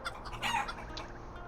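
A chicken in the Shire farmland of the video game The Lord of the Rings Online gives a short burst of close clucking, a few quick clucks over soft background ambience.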